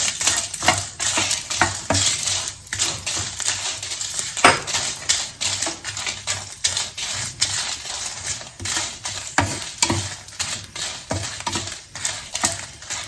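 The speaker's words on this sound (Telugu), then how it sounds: "ఆయిల్ వేడెక్కిన తర్వాత ఈ ఎండుమిరపకాయలు తీసుకున్నాను కదండి, ఆ ఎండుమిరపకాయలను వేపుకుంటున్నాను" Dried red chillies fry in hot oil in a metal pan while a spoon stirs constantly, making steady scraping and clinking over a light sizzle.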